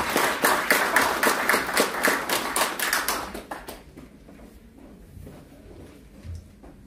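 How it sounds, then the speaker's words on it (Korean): Applause from an audience at a founding ceremony in a Seoul press center hall, a steady patter of clapping for several seconds that fades out, leaving a quiet room. "박수 부탁드립니다."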